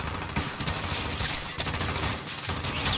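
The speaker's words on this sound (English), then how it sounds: "Ah, I'm getting shot." Dense, rapid gunfire fills the video game Call of Duty: Modern Warfare, with overlapping automatic bursts and sharp shots that continue without a break throughout.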